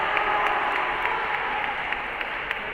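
A high school wrestling crowd in a gym applauds a senior wrestler being awarded a forfeit, steady dense clapping with a few sharper claps standing out, close and continuous.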